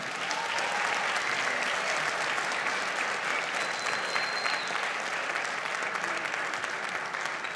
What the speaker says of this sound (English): another round of applause for all of our students tonight?